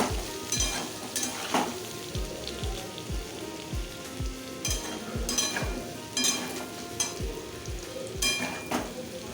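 Potatoes frying in hot oil in a wok, a steady close sizzle and crackle broken by repeated soft scraping and stirring strokes throughout.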